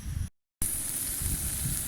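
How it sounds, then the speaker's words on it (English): A steak sizzles in a pan on a petrol camping stove outdoors, a soft steady hiss and crackle heard close, briefly cut off near the start before resuming. "My steak frying away."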